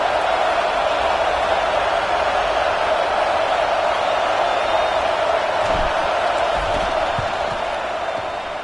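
Stadium crowd roaring loudly and steadily at a Georgia vs LSU college football game as a field goal kicker lines up on fourth down, a dense sustained wall of noise with no break.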